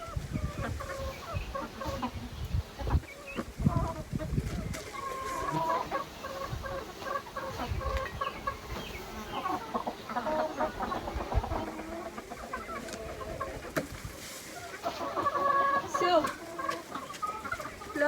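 Farmyard hens cluck repeatedly in an irregular chatter, near and fairly loud, with scattered rustling and knocks in the background and no clear talking.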